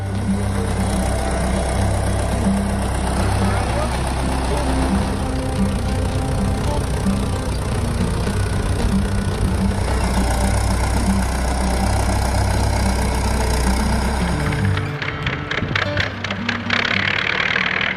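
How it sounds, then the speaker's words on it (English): A Belarus MTZ2 agricultural tractor from Minsk Tractor Works runs with a loud, steady low diesel drone and throbbing hum throughout, shifting to rougher, clattering bursts near the end, with no voices. "The Belarus MTZ2 tractor was one of the first agricultural tractor models produced by Minsk Tractor Works"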